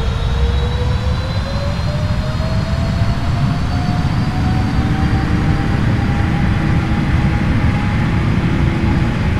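Twin jet engines of an Emirates Boeing 777-200LR in the Prepar3D flight simulator spool up steadily, a loud continuous roar with a rising whine that climbs in pitch throughout, heard alone without talk.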